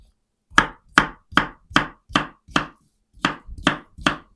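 Crisp knife chops through cucumber into chunks on a cutting board, about ten sharp evenly spaced strikes with a short pause partway through, close and clear.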